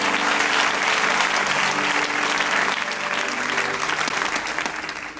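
A church congregation breaks into full applause, dense and continuous clapping that holds steady for about five seconds and eases slightly at the end.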